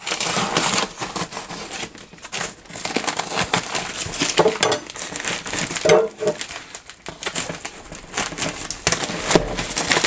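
A knife slicing and tearing through the cardboard packaging of a Metalfish S3 ITX computer case box, with continuous scraping, crunching and ripping sounds up close, loud and uneven throughout.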